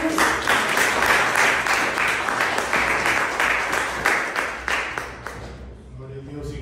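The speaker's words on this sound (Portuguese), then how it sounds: "Aplauda o Senhor com palmas." A church congregation claps along during a Tuesday evening worship service, steady rhythmic applause filling the room for several seconds before thinning out near the end.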